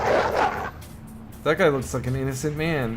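A dog in the video game Shadowrun: Dragonfall gives a few short barks and yips behind someone talking over the game.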